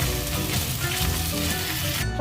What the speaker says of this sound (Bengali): যে যেরকম মাছ ভাজা তাও সেরকমই করবো, আমি একটুখানি কড়া ভাজাই করি